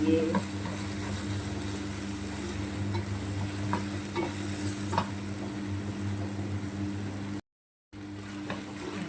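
Minced beef sizzling in a pan with sautéed onion and garlic, stirred steadily, with a constant low hum and scattered scraping clicks, close and fairly loud, with a short cut to silence near the end.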